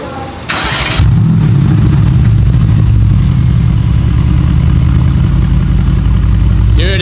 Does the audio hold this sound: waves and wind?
no